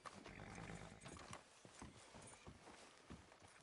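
Horse hooves clip-clop along a town street in the video game Red Dead Redemption 2, a steady walking rhythm of close, crisp hoofbeats with a brief whinny near the start.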